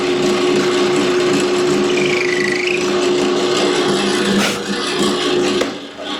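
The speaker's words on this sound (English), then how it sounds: "Drilled the hole right where I wanted." A magnetic drill press drills a hole in metal, giving a loud, continuous close-up grinding whine with a faint squeal partway through, easing off just before the end.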